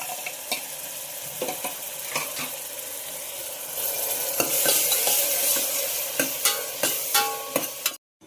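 Ground onion paste frying in a pan with cloves, stirred steadily, giving a continuous sizzle that grows louder midway, with spoon scrapes and clinks against the pan.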